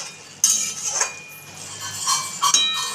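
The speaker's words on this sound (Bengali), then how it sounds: "এবার মা ঢাকা দিয়ে দিচ্ছে।" A metal lid is set onto a cooking pot of chicken kosha, giving a sharp clink and a couple of lighter rattles a moment later, close and clear against a quiet kitchen.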